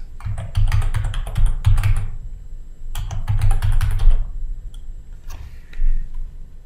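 Keywords are typed into a library search bar on a computer keyboard, in two brisk bursts of close, clattering keystrokes separated by a short pause, followed by a few scattered taps.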